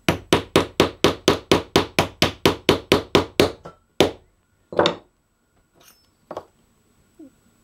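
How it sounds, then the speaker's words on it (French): A rubber mallet strikes an aluminium tube to press a ring onto the base of a cartridge case, about fifteen fast, even taps followed by a few slower, spaced blows, close and sharp. "Un marteau caoutchouc."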